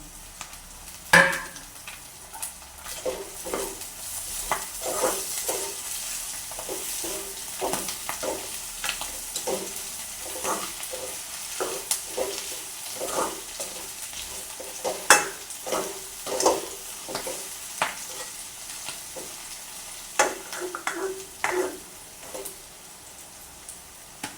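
Curry leaves and eggplant sauté in a pan while a spatula stirs and scrapes in steady, repeated strokes over a soft continuous sizzle, close and moderately loud, with no talking.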